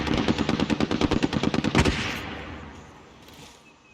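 Rapid automatic gunfire during a Call of Duty Warzone gunfight, a fast burst of about two dozen rounds for nearly two seconds, then fading into a decaying echo and quiet ambience.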